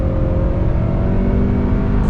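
Turbocharged four-cylinder engine of a Hyundai Santa Cruz pickup accelerating hard toward 6,000 RPM, a steady loud drone with rising tonal whine heard from inside the cabin, no talk.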